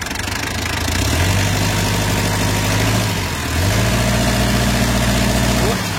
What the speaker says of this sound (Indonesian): Nih suaranya ya, kita gas ya.